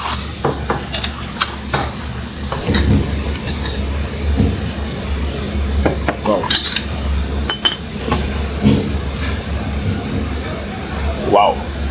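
Dishes, pots and cutlery clink and clatter in a busy local Chinese restaurant kitchen, with scattered sharp metallic knocks over a steady low hum and people talking nearby.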